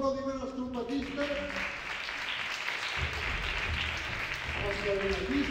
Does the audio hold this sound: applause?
yes